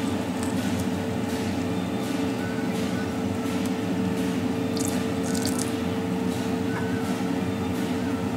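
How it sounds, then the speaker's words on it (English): Cornstarch mixed with water steadily pours into a boiling pot, with continuous bubbling and simmering throughout and a few faint clinks near the middle; no voices. "you're just going to gradually add the cornstarch and water"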